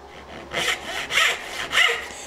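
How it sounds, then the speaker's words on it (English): Hand saw cutting wood for dovetails in three close, rhythmic strokes, each a rasping push that swells and fades, with no talk over them. "Remember to use the full length of the blade so that you get full life out of the sharpening of your saw"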